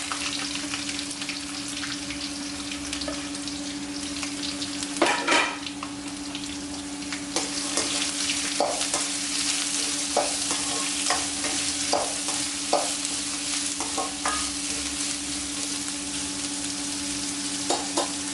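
Onions sizzle and fry steadily in a pan for Chettinad idli upma, a loud, close hiss broken by occasional scrapes and clinks of stirring, with no talking.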